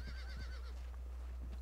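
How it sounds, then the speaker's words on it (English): A horse whinnies in Red Dead Redemption II, giving one wavering neigh over a steady low hum from the game, with brief faint clops after it. "What's that horse doing? The horse is angry."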